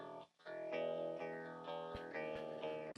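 Bass line with much of its low end rolled off to mimic small speakers, played through effects as part of a mixing demo, steady and continuous with repeated notes and no talking.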